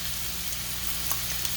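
Canned diced tomatoes with green chilies hit a hot goulash pan, giving a dense, steady sizzle close up with a couple of brief soft splashes.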